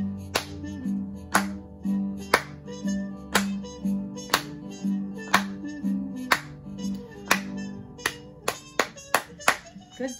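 A group clapping together at a children's library story time, sharp claps in a steady rhythm that speeds up toward the end, fairly close and clear over light background sound.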